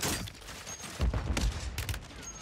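Gunfire in the Warzone video game on Rebirth Island from a KATT AMR sniper rifle and a Glock 45 pistol: several sharp, loud shots and cracks in quick succession, up close with a noisy rumbling game background.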